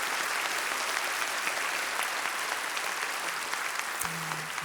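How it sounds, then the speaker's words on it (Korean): A church congregation applauds newly baptized members during a Sunday worship service, a steady, fairly quiet wash of clapping throughout, with a brief tonal hum near the end. "박수합니다. 박수."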